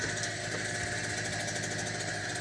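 A hard-starting generator engine runs steadily outdoors on a plot of land, a dense, continuous mid-range drone with a steady low rumble and no pauses.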